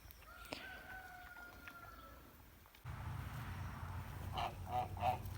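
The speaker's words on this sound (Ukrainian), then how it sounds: "Наші гуси відпочивають" Geese honk in short bursts, a few calls early on, then a louder cluster of honks near the end over outdoor background noise.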